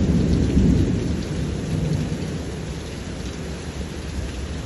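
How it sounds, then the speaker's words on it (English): Steady heavy rain pours through a thunderstorm while low rumbling thunder rolls loudly beneath it, swelling early then settling into a continuous wash, with no voices. "If you got rain, thunder, lightning, let it roll."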